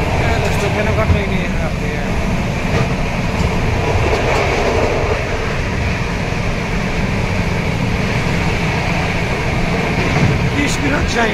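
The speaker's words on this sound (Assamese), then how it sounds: "কি স্পীডত যায়, গুলি দি যায়, গুলি দি যায়, একদম বহুত স্পীডত যায় ট্ৰেইনখন।" A train runs at high speed, heard from inside as a steady rumbling roar with faint rail clatter, continuous throughout and fairly loud.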